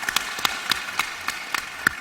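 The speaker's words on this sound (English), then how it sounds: "Let's clap for Nicodemus." A small audience at an education panel claps for a student, a sparse, fairly faint patter of separate hand claps spaced out at an uneven rhythm.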